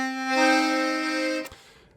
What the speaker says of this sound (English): This one features 25 keys on the treble with Musette tuning.